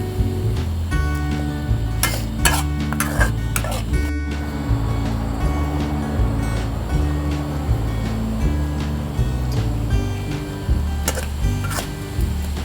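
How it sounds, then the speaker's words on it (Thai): Vegan southern-style Thai khua kling curry paste stir-fries over high heat, a steady loud hiss of frying with occasional metallic clinks of a spatula against the pan. "เวลาผัดเครื่องแกงเปิดไฟแรงๆ"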